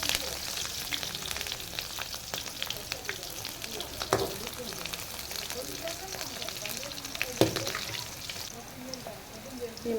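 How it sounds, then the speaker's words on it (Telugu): Bitter gourd frying in oil in a pan until it turns red. A continuous close sizzle crackles throughout, with occasional louder pops and spatters. "ఇట్లా రెడ్ కలర్ వచ్చే వరకు వేయించుకోవాలండి. బాగా ఎర్రగా వేగిపోవాలి."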